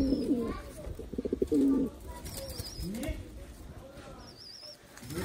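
Pigeons, including a male, coo in low throaty bursts at close range, with a flurry of wing flaps midway and a few thin higher chirps later; a voice talks intermittently over them.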